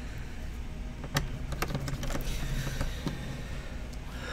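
Small screws going back into a laptop palmrest during a motherboard swap, heard as scattered light clicks, taps and creaks of the plastic case, close-up with no talking.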